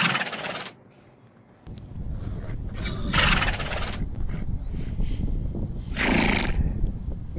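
A loud horse whinnies in repeated bursts, set against steady hoof clip-clop and background rumble; the neighs are close and prominent, with no speech.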